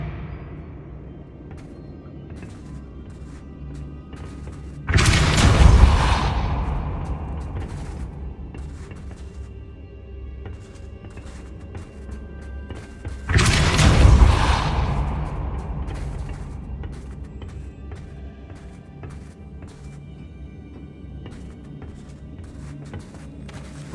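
Two loud spell blasts from the Depulso force spell in the video game Hogwarts Legacy, each a sudden booming burst that decays over a couple of seconds, about eight seconds apart over a low game ambience.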